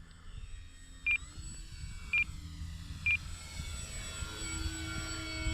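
Three short, evenly spaced electronic beeps from an RC plane transmitter as the trim is adjusted, sounding over a steady airplane engine drone outdoors.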